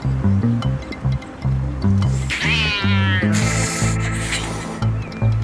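A cat's drawn-out meow rises and wavers over rhythmic background music and a rushing, surf-like noise.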